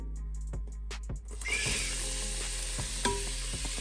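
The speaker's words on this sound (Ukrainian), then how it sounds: "Починаємо ми обсмажувати все з цибулі." Chopped onion frying in a pan as the first step of a bolognese sauce, a steady close sizzle with a few sharp clicks and stirring knocks near the start, then continuous hissing.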